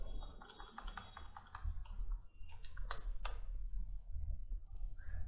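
Typing on a computer keyboard while renaming items in a Unity visual scripting setup: quick, close clusters of light key clicks in an uneven rhythm over a low room hum.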